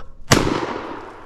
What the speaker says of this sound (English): I just closed it and it shot right when it closed